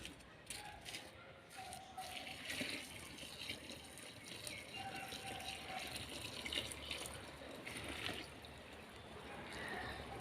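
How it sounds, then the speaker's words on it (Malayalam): Water being poured into a bucket of neem cake fertilizer mix, a quiet, steady gushing splash that continues for several seconds, with faint talk in the background. "ഇത് മൂന്നും കൂടെ ചേർത്തതിന് ശേഷം നമ്മൾ വെള്ളം ഒഴിച്ച്"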